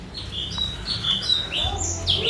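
A tame lovebird gives a run of short, high chirps and tweets, close and clear over a low background hum, the calls coming in quick irregular bursts.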